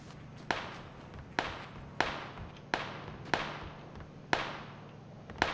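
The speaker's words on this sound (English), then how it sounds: "Gunfire at the buildings." Sharp gunshots in PlayerUnknown's Battlegrounds, about eight single reports spaced roughly a second apart, each with a short decaying echo, distant and fairly faint with no talk over them.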